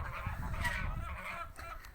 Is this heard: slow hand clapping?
no